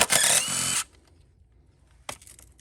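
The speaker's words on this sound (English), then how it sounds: "Take these 3 bolts out." A power tool whirs for under a second, backing out a bolt on a Honda HR214 lawn mower that leaks oil, then a second brief whir follows after a pause, close and loud.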